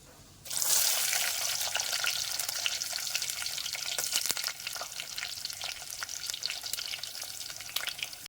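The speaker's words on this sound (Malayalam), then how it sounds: "ഇനി വെളുത്തുള്ളി ഇടാം." Garlic dropped into hot sesame oil with fenugreek seeds for lemon pickle bursts into a loud sizzle, then keeps frying with crackles and spits that slowly ease; no voices.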